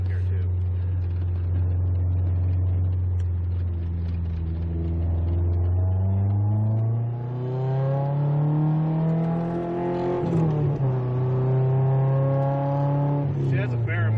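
A Subaru on stock suspension and worn tires drives hard, its engine note climbing steadily in pitch as it accelerates. It drops back at a gear change, then pulls up again, loud and close inside the cabin.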